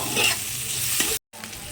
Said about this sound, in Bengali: দিয়ে এবারে পেঁয়াজটাকে একটু লাল করে ভেজে নেব।